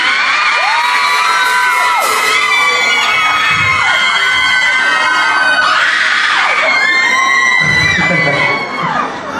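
A large crowd screams and shrieks in loud, sustained waves, high-pitched cries rising and overlapping continuously.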